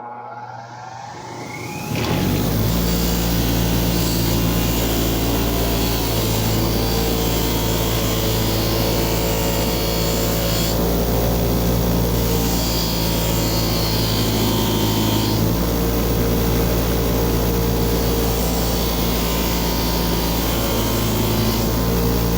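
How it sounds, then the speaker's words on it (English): A loud, steady power-tool whine with harsh grinding and scraping as a vintage wood chisel is cleaned against a spinning wire wheel on a drill press, continuous and close. "let's get over the wire wheel and get this bad boy cleaned up."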